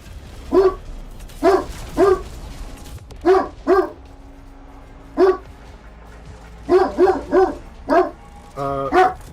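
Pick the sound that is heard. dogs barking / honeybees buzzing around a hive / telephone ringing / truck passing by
dogs barking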